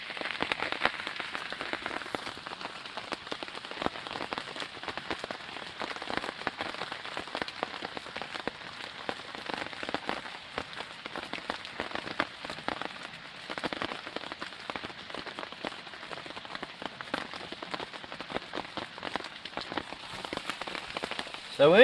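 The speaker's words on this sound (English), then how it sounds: "Still raining, as you can tell." Rain patters steadily and densely on surfaces in the woods during a Panther Creek backpacking trip, close and continuous with scattered heavier drops throughout.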